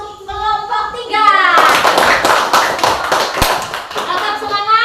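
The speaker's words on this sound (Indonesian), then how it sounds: "Kita beri tepuk tangan untuk kelompok 3." A classroom of children claps for group 3, a dense burst of many hands applauding that starts after a brief voice and continues steadily, close and loud.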